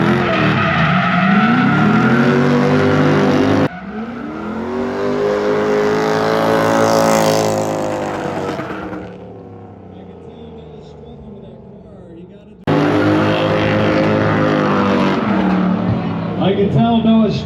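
Drift cars race around Suika Circuit, engines loud and strained with tire noise as they sweep past; the roar swells, fades to near quiet, then bursts back in, with commentary voices over the racing.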